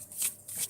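Tarot cards are shuffled in two quick riffling bursts, soft and close, with a faint hush between them.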